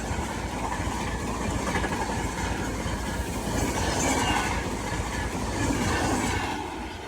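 The Lucknow Tejas Express rushes past at around 130 km/h, a loud, close roar of wheels on rail with rhythmic clatter and rising and falling waves of rumble throughout.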